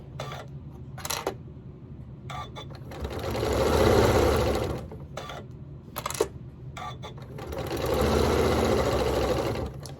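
Sewing machine fitted with a walking foot stitching quilt-as-you-go t-shirt blocks with sashing, running in steady bursts of rapid mechanical stitching that swell and pause, close and clear with no talking.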